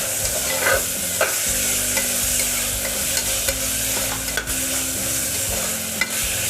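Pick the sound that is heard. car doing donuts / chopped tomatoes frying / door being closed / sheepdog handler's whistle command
chopped tomatoes frying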